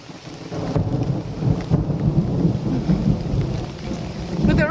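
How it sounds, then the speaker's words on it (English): A thunderstorm on a Virginia section of the Appalachian Trail, with steady heavy rain and deep, rolling thunder rumbling throughout, loud and close, with no voices. "It's storming. It's raining."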